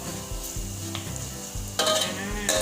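Garlic crisping in hot oil over medium-high heat, a steady sizzle with occasional stirring scrapes and a brighter burst of frying noise toward the end, no voices.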